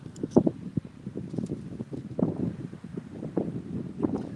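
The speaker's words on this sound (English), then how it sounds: "it is very windy out here" Strong wind buffeting a microphone outdoors on a street, uneven gusty rumbles and rustling bursts rising and falling close up, with no speech over it.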